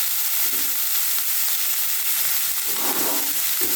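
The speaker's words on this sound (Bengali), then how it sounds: "এরপর টমেটো কুচিটা দিয়ে দেবো।" Chopped tomato hits a pan of frying fried rice made from leftover cooked rice, giving a continuous close sizzle and crackle with brief stirring swells, with no talking.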